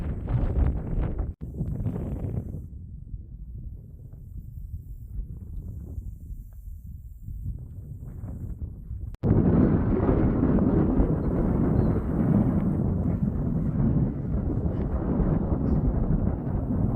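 Wind gusting across a mountain section of the Colorado Trail on a fine day: a steady low rumble buffeting the microphone, easing slightly, then turning louder and rougher after an abrupt jump partway through.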